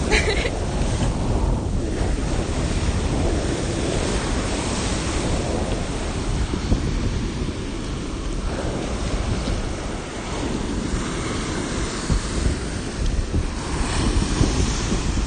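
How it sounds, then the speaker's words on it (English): Ocean waves and surf roar steadily on a shoreline walk while wind buffets the microphone, loud and continuous throughout with no voices. "how well can you hear the ocean?"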